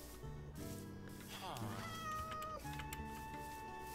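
A cartoonish cat meow in a Pokémon-style video game rises and bends over continuous background game music, with someone talking over it.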